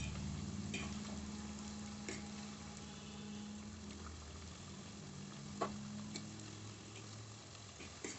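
Potato pieces fry in hot oil over a medium gas flame for a crispy aloo fry, giving a continuous close sizzle with occasional light clicks of stirring.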